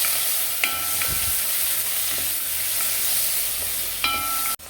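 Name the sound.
onions frying and stirred in hot oil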